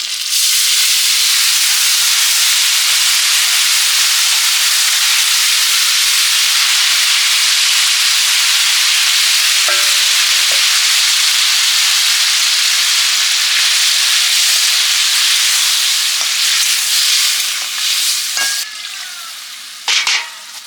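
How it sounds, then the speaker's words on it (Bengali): Tamarind water poured into a sizzling pan of cooking greens, a loud close steady roar of steam and frying that fades slightly toward the end, with a few clinks of utensils. "তেঁতুলের জলটা দিয়ে দেবো"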